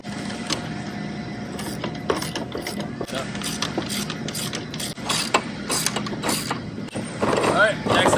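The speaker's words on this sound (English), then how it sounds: "It can be a ratchet, it can be a wrench. You just need 2 of them that are 1/2 inch. Put a nut on each bolt." Half-inch ratchet or wrench tightening nuts onto bolts while assembling a Tilther Pro garden tiller, giving repeated short metallic clicks and scrapes at close range, with a few louder knocks.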